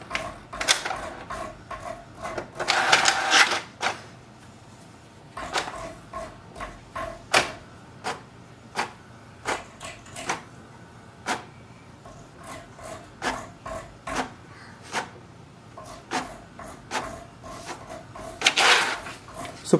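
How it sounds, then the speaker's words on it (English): An HP DeskJet 3772 inkjet printer makes mechanical clicks and clacks at irregular intervals, with a couple of longer whirring passes as it feeds and moves the page. "Wait for the printer to print a page."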